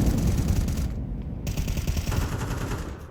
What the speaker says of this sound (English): Or it could just be a double dink for Art on an MP9